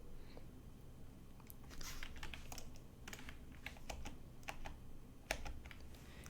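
Keys clatter in an irregular run of sharp, close clicks on a computer keyboard while a tax rate is entered into a point-of-sale system, with a few heavier strokes like an Enter press standing out; nobody speaks.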